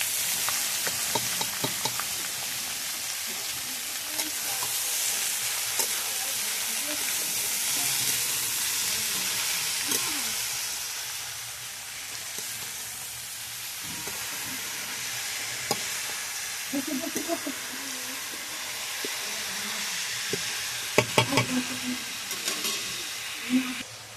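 Pointed gourd (potol) and sliced onion fry in plenty of hot oil in a wok, a steady close sizzle and hiss running throughout with occasional scraping stirs and clinks of a spatula, no voices.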